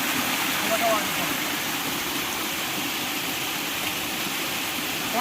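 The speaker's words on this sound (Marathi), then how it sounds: "पाणी पडतंय वरतून आणि आतमध्ये" Water falls from above inside a cave at Korigad hill fort, a steady hissing rush with a brief faint voice near the start.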